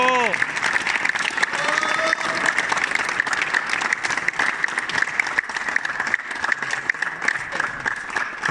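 A crowd at a Subbuteo table-football tournament applauds the winner with sustained, close clapping from many hands, while voices cheer and call out over it at the start and scattered throughout.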